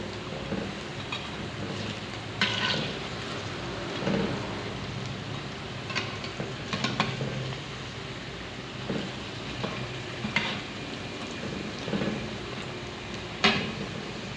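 Potato pakoras deep-frying in hot oil over medium heat, a steady crackling hiss with brief louder pops, continuous and close, no voices.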